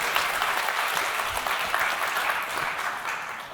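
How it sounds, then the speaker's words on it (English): A conference audience applauds steadily after a presentation, with dense clapping that slowly fades toward the end. "Let's give a big round of applause for Colleen."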